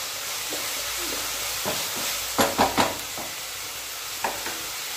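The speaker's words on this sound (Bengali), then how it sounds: "আলুটা একটু ভাজা হয়ে গেছে" Potatoes fry in a pan for a vegetable pasta, a soft steady sizzle running underneath several sharp scrapes and clacks of a utensil stirring, with a cluster of quick strokes near the middle and one more toward the end.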